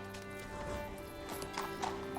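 Horse hooves clip-clop at a steady walking pace in a period drama scene, moderately close, with a brief whinny and background score layered beneath the hoofbeats.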